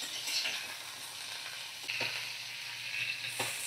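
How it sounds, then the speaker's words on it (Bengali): Broccoli and cauliflower fry in hot oil with a steady, fairly quiet sizzle, broken by a few soft stirring scrapes; no one talks. "কাঁচা গন্ধটা চলে যাওয়া পর্যন্ত আমি ব্রোকলি আর ফুলকপি ভেজে নেব"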